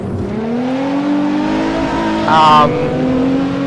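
A Nissan GT-R Nismo's engine drones and revs in a racing video game as the car is forced into a drift, with a brief tyre squeal cutting through midway.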